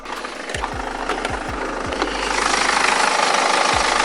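The engine of a BMW 3 Series E93 from 2006 runs roughly, a steady, loud mechanical drone with irregular low thumps and knocks, growing slightly louder toward the end.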